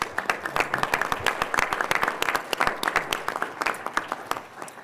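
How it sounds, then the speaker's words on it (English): Audience applause at a university board of trustees meeting, a dense patter of many hands clapping steadily for about five seconds with no talk over it. "Please give a warm applause for all of them."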